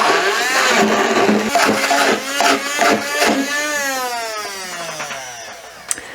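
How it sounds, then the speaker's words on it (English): A stick blender fitted with a non-splash attachment whirs loudly through coriander pesto with nuts, its motor pitch rising and falling as it bites and then spinning down toward the end. "I'm gonna just do it with my stick blender with this non-splash attachment."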